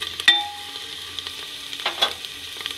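Ginger-garlic paste frying with browned onions gives a light sizzle punctuated by a sharp clink and a couple of scraping stirs, close and moderately quiet.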